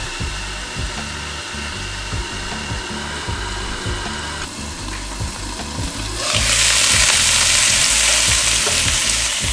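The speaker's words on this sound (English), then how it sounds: "When the oil is heated, place the chicken skin side up, and we're going to cook it covered until cooked through." Chicken pieces laid skin side up in hot oil give a loud, continuous sizzle with a faint rhythmic background thump, and the crackle swells sharply brighter and hissier partway through.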